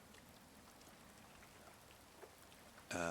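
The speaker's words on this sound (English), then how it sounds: "Is it raining? It is too." Steady rain pattering across the ground in the Rising World video game, a soft continuous hiss of drops that carries on alone before a louder burst cuts in at the very end.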